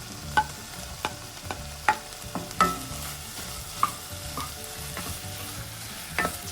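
Chicken pieces cooking in a covered pan, a steady low sizzle broken by sharp scraping stirs and clinks of a spoon at irregular intervals, close up with no talk.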